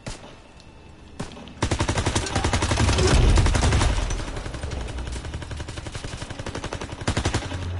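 Rapid machine gun fire chatters in a video game, a long, steady stream of close, evenly spaced shots that starts after a couple of single cracks and swells into a rumbling blast before tapering into continued firing.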